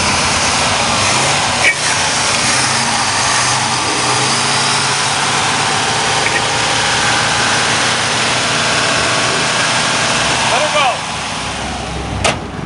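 A Pontiac 2+2 with a 428 HO V8 idles nearby, a loud steady engine rumble that runs through the whole clip, with voices over it.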